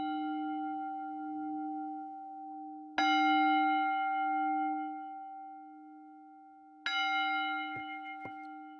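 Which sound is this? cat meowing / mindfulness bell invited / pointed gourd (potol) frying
mindfulness bell invited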